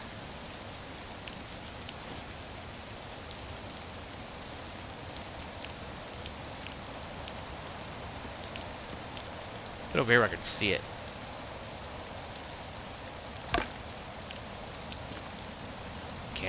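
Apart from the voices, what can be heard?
rain in the video game Rising World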